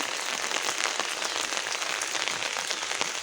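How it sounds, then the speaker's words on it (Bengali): Heavy rain pouring down steadily, a dense, even hiss of drops striking surfaces nearby, with no voices over it. "আজকে হচ্ছে সকাল থেকে প্রচণ্ড বৃষ্টি পড়তেছে"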